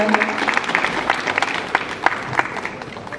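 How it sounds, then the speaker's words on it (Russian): Audience applause at a young designers' fashion show, a dense patter of clapping hands from a crowd, close and lively, with some voices mixed in. "Аплодисменты."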